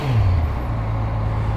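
A Kawasaki Versys 1000 motorcycle engine fires up and settles straight into a loud, steady low idle close by, with no voices.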